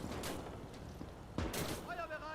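Gunfire in the WWII video game Gates of Hell, with two sharp broadband volleys, one early and a heavier burst past the midpoint, over constant battle noise and shouted voices.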